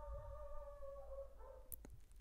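A dog howls and whimpers upstairs in a house in long, wavering tones, faint and muffled as if heard through the floor, followed by a few sharper sounds near the end.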